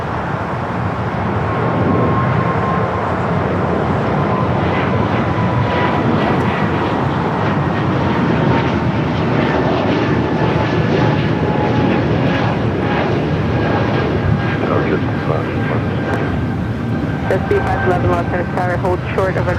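A SkyWest airplane, flight 789, takes off from runway 25 right at LAX, its engines a sustained, powerful roar with a rising whine, while voices talk over it.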